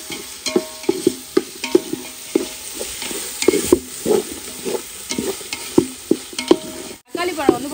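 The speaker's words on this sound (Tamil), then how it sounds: "இப்போ தக்காளி வந்து நல்லா வதக்கலாம்" Tomatoes and green chillies sauté in a pan for chicken biryani, with a ladle scraping and knocking in a brisk, repeating rhythm over a close sizzle.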